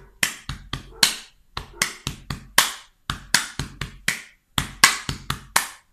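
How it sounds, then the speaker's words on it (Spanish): Sharp, close hand claps and chest slaps beat out a chacarera rhythm in repeating groups of quick strikes with short pauses between, dry and percussive with no voices. "Tercer tiempo, mano derecha, pecho. Mano izquierda, pecho. Quinto tiempo, palmas."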